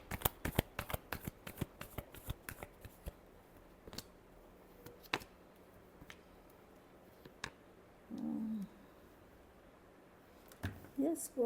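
Tarot cards being shuffled in a quick burst of crisp riffling clicks, then scattered single snaps and taps, close and fairly quiet; a brief voice murmurs partway through.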